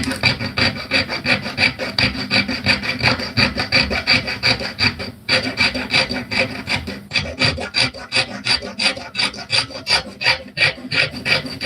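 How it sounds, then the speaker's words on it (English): Rapid, rhythmic rasping strokes of a fine hand saw cutting through silver for a bracelet, steady and close, continuing throughout with one short pause. "as soon as we get going a bit, we can start sawing"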